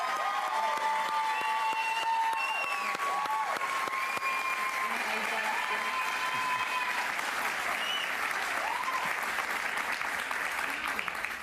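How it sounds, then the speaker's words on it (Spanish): A studio audience breaks into loud, sustained applause and cheering to welcome María Corina Machado, a dense wall of clapping that holds steady from start to finish with no talk. "Un aplauso para ella,"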